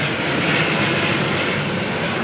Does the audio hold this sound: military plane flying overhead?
yes